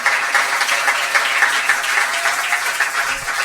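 Church congregation applauding the Lord during a special women's seminar, sustained loud rhythmic clapping from many hands filling the room.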